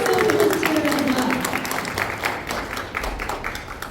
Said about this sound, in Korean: 여러분, 뜨거운 박수 보내주시기 바랍니다.